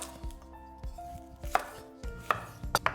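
A knife slices red onion on a cutting board in a quick series of sharp chopping taps that quicken toward the end, close and clear over quiet background music.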